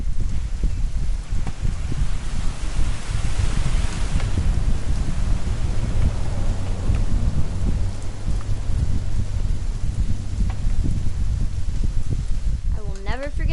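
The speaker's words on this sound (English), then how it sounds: "It's gonna rain the whole weekend," Rain falls steadily in the video game What Remains of Edith Finch, a loud continuous wash with low rumbling like distant thunder beneath it, and a voice comes in briefly near the end.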